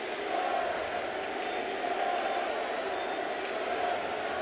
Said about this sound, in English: Stadium crowd with a chant of cheater.